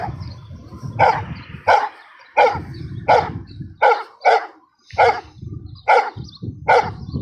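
Several dogs bark repeatedly in a home kitchen before feeding time, sharp, loud, close barks in irregular bursts roughly every half second to second, with lower rumbling noise between them.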